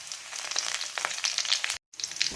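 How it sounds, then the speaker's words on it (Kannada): Onions fry in a little oil in a pan for uppad pachil, giving a steady close sizzle and crackle with small stirring scrapes and a brief break near the end. "ನೀರುಳ್ಳಿ ಒಂಚೂರು ಎಣ್ಣೆಡು ಫ್ರೈ ಆವೋಡು"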